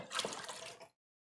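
Water is measured and poured for homemade barbecue potato chips, a brief, faint splash and trickle lasting under a second before cutting to silence.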